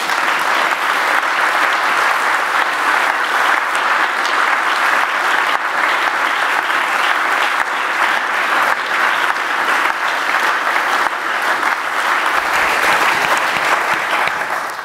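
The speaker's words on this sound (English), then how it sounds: "So let's all give a warm applause to President Hensinger." Sustained loud applause from a large audience, dense steady clapping that continues without pause.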